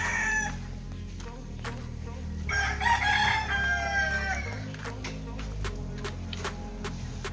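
A chicken clucks and crows nearby over steady background hum, with a few sharp ticks scattered throughout.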